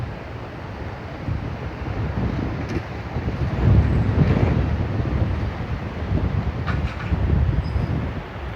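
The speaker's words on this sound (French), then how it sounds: "Il y a un vent, mais incroyable." Strong wind buffets the microphone outdoors during a horse-riding training session, a continuous rushing roar that swells and eases in gusts, with no voices.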